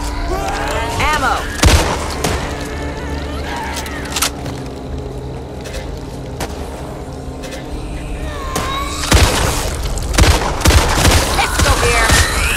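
Gunfire in the zombie shooter Back 4 Blood, with repeated loud shots and bursts scattered over a steady rumble, some heavy volleys near the end, while players talk throughout.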